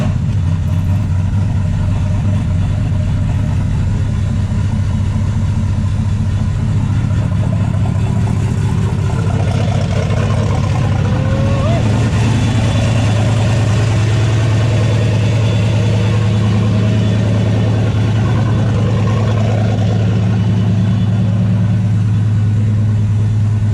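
An LS V8 engine fitted with a Warr 4-bolt throttle body runs at a steady, close idle, a continuous low rumble that holds even for the whole stretch with no talking.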